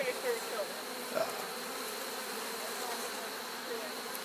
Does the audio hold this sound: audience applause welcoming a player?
no